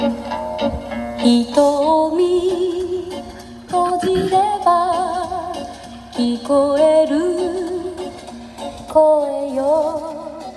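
Cassette tape music plays through the small speaker of a Panasonic RX-FS25 portable radio with a slightly boxy, lo-fi tone, a melody over steady accompaniment, moderately loud and continuous with brief dips between phrases.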